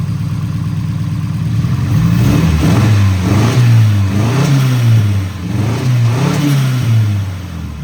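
A 1989 Nissan 240SX engine with a slight misfire runs close up and loud, its low tone rising and falling through repeated small revs, with a rough, uneven pulse beneath.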